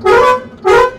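A truck's air horn with a suspected air leak gives two short, loud, close blasts in quick succession during a test, with no talk.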